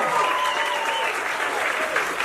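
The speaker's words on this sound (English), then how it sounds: "Give her a round of applause." A comedy club audience applauds and cheers steadily, a dense continuous round of clapping with a few whoops and voices scattered through it.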